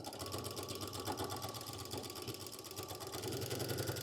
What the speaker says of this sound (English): So we'll go back, do just one little back stitch at the very edge of the fabric.